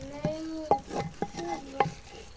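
Gajrela, a grated carrot pudding, roasting in a spoonful of ghee while a spoon scrapes and stirs the pot in short repeated strokes over a soft sizzle, no speech.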